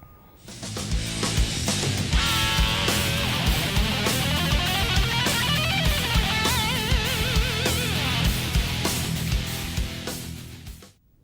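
A fast electric guitar shred lick rips over a full backing track with drums and bass, dense and loud throughout, the lead notes cutting through the steady beat for about ten seconds.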